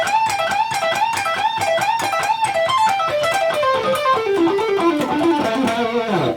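A distorted electric guitar plays a lead riff, with repeated notes and pitch bends sliding up and down, loud and continuous with no voices.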